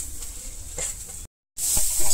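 Grated carrot going into a pan of fried onion and curry leaves, sizzling steadily and fairly close, with a brief dropout before the frying hiss returns louder as it is stirred.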